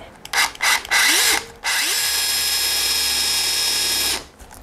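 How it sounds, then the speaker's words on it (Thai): A power drill fitted with a Japanese ONISHI 8 mm bit, pressed down with force, whirs in a few short loud bursts and then drills in one steady, close, high-pitched run before winding down. "เจาะได้ทั้งแบบเบาๆแล้วก็ลงน้ำหนัก"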